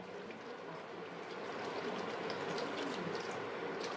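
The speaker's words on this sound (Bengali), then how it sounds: "এখন আমি পরিমাণ মতো জল দিয়ে দেব," Water is poured into a pan of fried spice paste for chicken, a continuous splashing trickle under a soft sizzle that grows slightly louder as the pour goes on, with no talking.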